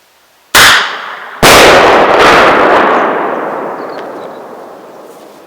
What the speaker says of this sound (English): True Flare bear banger test. Fire in the hole.